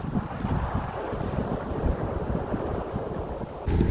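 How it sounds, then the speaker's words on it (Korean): Strong wind buffets the microphone in a steady, heavy roar with low rumbling gusts, continuous and loud throughout, with no voices, on a cold day at Lake Baikal, Russia. "바람이 세서 목소리가 들릴지 모르겠네."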